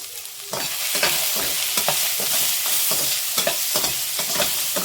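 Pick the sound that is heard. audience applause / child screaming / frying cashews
frying cashews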